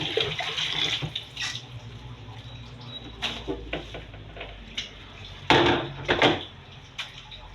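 Food being rinsed by hand under a running kitchen tap, a steady wash of water with bursts of splashing and handling noises, close and fairly loud with no talk.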